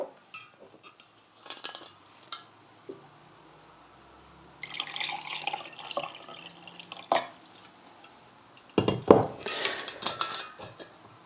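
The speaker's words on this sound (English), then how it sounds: "I'm going to take some of this distilled water, I'm going to put it into a glass" Distilled water poured into a glass: quiet clinks and trickling splashes come in bursts, with a louder splashing pour and clatter near the end, close and without talk.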